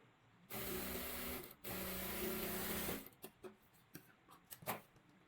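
An electric sewing machine stitches cloth while a readymade broad neckline is set, running in two steady bursts of about a second each with a brief pause between, followed by scattered rustling and handling of fabric.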